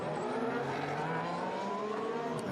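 Formula 1 car at the Monaco Loews hairpin in 2016 practice, a steady engine drone with slowly rising and falling harmonic pitch as it rounds the tight bend, close and continuous without talk.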